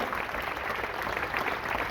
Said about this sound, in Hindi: जरा जोरदार तालियां सत्यनारायण सत्तन के लिए बजा दें